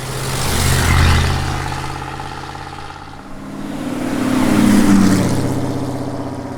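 A loud supercharged truck engine rises and falls as it passes close by, with a whining supercharger spool swelling over the steady motor roar.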